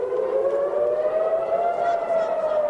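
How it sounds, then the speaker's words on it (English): A wailing air raid siren in Tel Aviv drones steadily during rocket fire, its pitch slowly rising, sounding from a distance over faint background noise. "In Tel Aviv, sirens scream out, urging people to take cover as it too is targeted."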